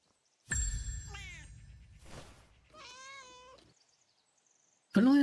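A cat in the video game Where Winds Meet gives two clear, close meows separated by a soft rustle, then a third sound begins abruptly at the end, with no talking.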